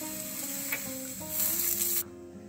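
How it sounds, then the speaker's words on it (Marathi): Green chillies roast in a little oil in a pan, a steady close sizzle and crackle with a brief louder hiss near the end before it cuts off; no one talks. "इथे आपल्याला मिरच्या भाजून घ्यायच्या आहेत"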